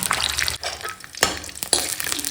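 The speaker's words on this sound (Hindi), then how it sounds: "मैंने कढ़ाई में डाला है तेल और उसमें डाला जीरा" Cumin, black pepper, cloves, cinnamon and cashews fry in oil in a kadai, a steady close sizzle with a few sharp spikes and brief clinks as the spices are stirred.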